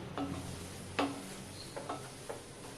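Poha being sautéed in jaggery in a pan gives a faint, steady sizzle, broken by a few soft scraping stirs and light taps against the pan.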